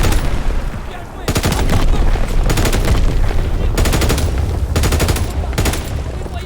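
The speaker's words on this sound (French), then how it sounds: "Daniel, ouvre un fusil à lunettes et tire sur ces bacs!" Gunfire in the World War II shooter game Call of Duty WWII, loud rapid machine-gun bursts and shots in several clusters over a dense battle din, with faint voices beneath.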